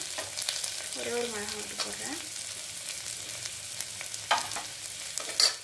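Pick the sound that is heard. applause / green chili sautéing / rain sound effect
green chili sautéing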